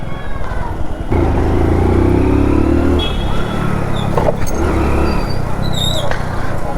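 A motorcycle ridden through crowded traffic, braking and shifting down to first gear, its engine a steady loud drone with a rougher change midway and horns and street noise around it.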